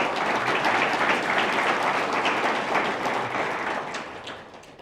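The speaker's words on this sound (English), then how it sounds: "Do have a round of applause for Terry," A crowd at a memorial service for Robert Meacham claps for the MC, Terry Nelson, in a steady, dense wash of applause that holds full for several seconds before starting to thin out.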